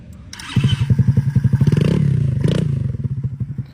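A small motorcycle engine sputters to life with rapid, uneven putts, revs up briefly, then settles into a choppy idle close by.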